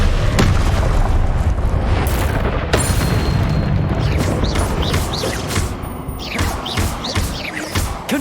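Confringo blasting spells exploding in Hogwarts Legacy, a loud, busy run of deep booms and thuds. Sharper bursts and whooshing spell sounds follow, with the density easing slightly toward the end.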